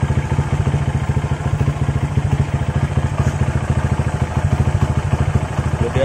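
A Honda GL Max motorcycle engine idles close by, giving a steady, even, rapid thumping pulse that stays constant throughout with no revving.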